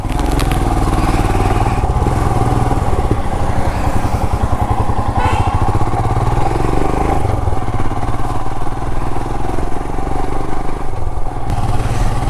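A Himalayan BS6 motorcycle rides along a forest path on the way to Ponmudi, its engine a close, continuous, loud thrum with clattering rattles and slight shifts in revs throughout.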